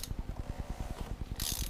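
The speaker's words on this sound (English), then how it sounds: "you can go back to your ratchet and tighten it back up" Ratchet tightening the oil drain plug on a BMW F10 528xDrive, a steady rapid run of close, crisp pawl clicks with no talk over it.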